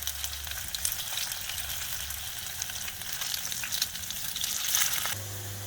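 Potatoes sizzle on a grill pan, a steady close frying hiss with light crackle throughout, swelling slightly before a brief low thump near the end.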